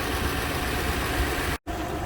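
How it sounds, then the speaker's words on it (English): A Lexus LX470 engine idles steadily with the hood open, giving a continuous low hum close by, broken only by a momentary dropout near the end. "that's the most reliable engine right there. Listen to it hum."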